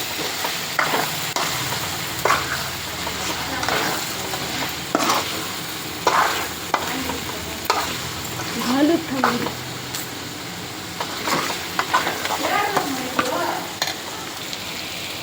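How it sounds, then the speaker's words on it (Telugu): Chicken being stirred with chicken masala in a frying pan: steady sizzling broken by repeated scraping strokes of a spoon through the pan, close and fairly loud, with no one talking. "ఇప్పుడైతే చికెన్ మసాలా అయితే వేస్తున్నాం. బాగా కలిపేసుకోవాలి."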